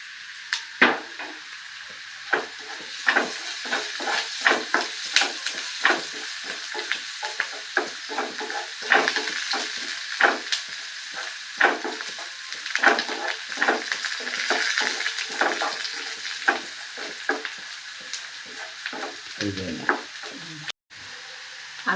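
Ginger garlic paste fries in oil with a continuous bright sizzle, and a spoon stirs it in a steady rhythm of scrapes and taps throughout, close to the pan.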